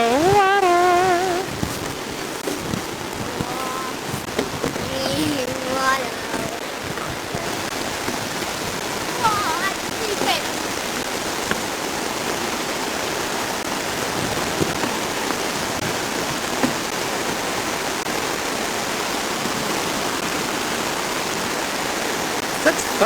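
Geyser runoff at Midway Geyser Basin in Yellowstone flowing away over the ground, a steady broadband rush of water that runs throughout, with brief voices near the start.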